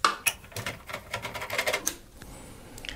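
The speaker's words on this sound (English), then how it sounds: "let's take our cross-headed screwdriver and remove the two case side panel screws" A cross-head screwdriver unscrews the side panel screws of a PC case, producing close, irregular metallic clicks and scraping taps over about three seconds with no speech.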